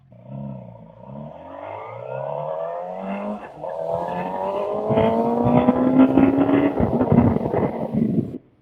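A Suzuki GSX-R 600 inline-four motorcycle engine revs up through rising gears, the exhaust note growing louder and harsher, then a sustained high-revving roar close by.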